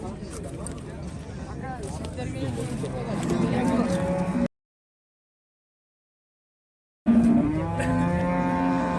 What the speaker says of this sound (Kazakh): Оштун Учкун мал базарындагы саан уйларды сиздерге тартып көрсөтөбүз